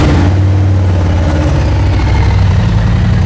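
A 2018 Harley Davidson Ultra with fuel injection and Rinehart dual exhausts on an ice-cold start, loud and close, a deep steady rumbling idle with a throbbing low pulse throughout.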